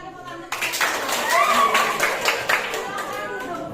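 Students in a classroom break into clapping after a teacher's brief spoken cue. The claps are scattered and uneven, with a few voices and some chatter mixed in throughout.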